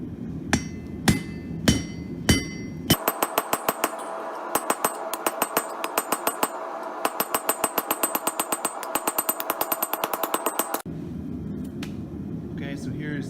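A piece of steel from a farrier's rasp is hammered against an old hatchet head used as a cutoff tool. A few spaced metallic blows come first, then a long run of rapid, loud, ringing hammer strikes that stop abruptly.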